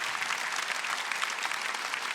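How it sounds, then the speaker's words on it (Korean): Church congregation clapping at a Sunday worship service, a dense, steady burst of applause filling the room with no talk over it. "박수를 치라고."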